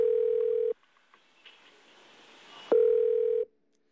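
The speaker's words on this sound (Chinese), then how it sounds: "马以南手机始终没有接通。" Phone call left unanswered: a steady electronic call tone sounds for under a second, drops to near silence with faint rustle and hiss, then a louder tone returns for about a second before stopping.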